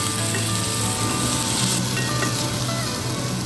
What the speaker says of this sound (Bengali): পেঁয়াজের রং ধরতে শুরু করেছে এবার আরও কিছুক্ষণ এটাকে ভেজে নেব